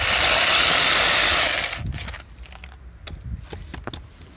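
A Ryobi XBRH-18 cordless rotary hammer drill bores with a 10mm bit in a loud, dense hammering burst for about a second and a half, then stops, leaving softer clicks and handling sounds.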